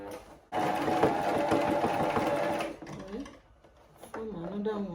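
Sewing machine stitching turban fabric runs in a loud steady rattling burst of about two seconds, then stops and gives way to someone talking.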